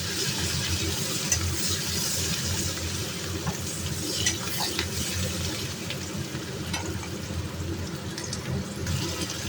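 Onions sizzle in hot mustard oil in a pan with black cumin and a green chilli, a steady close frying hiss broken by soft scraping stir strokes, with no talk.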